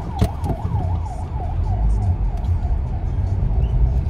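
An ambulance siren wails in a rising and falling cycle on a road in SBMA, steady and fairly close at first, then fading under a constant rumble of traffic and engine noise.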